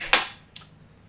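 A cork pops from a whisky bottle twice in quick succession, a sharp close pop followed by a fainter second one, with no talk.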